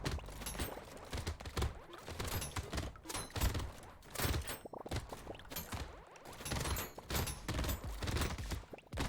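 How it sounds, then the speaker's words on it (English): Rapid, overlapping shotgun blasts from three guns in the video game Brotato, a dense stream of punchy bursts with thumps and clatter layered over continuous game music and effects. "Three shotguns just really feels like the perfect amount of shotgunning."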